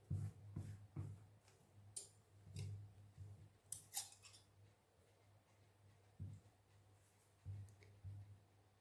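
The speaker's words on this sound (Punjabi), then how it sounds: "ਹੁਣ ਇਹਨੂੰ ਆਪਾਂ ਇੱਥੇ ਥੋੜੇ ਥੋੜੇ ਕੱਟ ਲਾ ਲਾਂਗੇ" Scissors snip small notches into pyjama fabric, a series of quiet, crisp, irregularly spaced cuts, close by and faint, with no talk.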